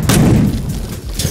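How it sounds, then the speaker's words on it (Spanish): Gunfire in the Landfall Archives video game: two sharp, loud shots, one at the start and one near the end, with a dull booming rumble between them. "Me pongo aquí y disparo para allá."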